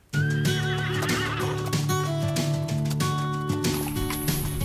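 A horse neighs loudly and close, a long wavering whinny with a tonal, musical quality, followed by steady sustained tones.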